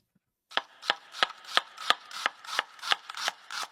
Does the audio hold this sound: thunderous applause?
no